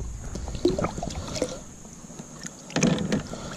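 Water splashes and trickles over the outside of an old ACL soda bottle during rinsing, irregular close-up splashes with two louder bursts, no talking.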